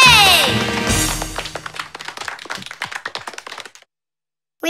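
A cartoon audience at Tutti Frutti Bay breaks into a short round of applause. Quick claps start under a voice, then thin out into scattered individual taps before stopping.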